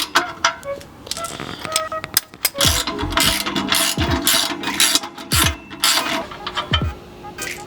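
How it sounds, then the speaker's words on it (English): Ratchet wrench working the two bolts on a car's exhaust muffler joint, a close run of quick clicking bursts with pauses, a few sharp metallic knocks and light scraping between strokes. "what you're gonna do is unbolt the two bolts that hold the joint on there"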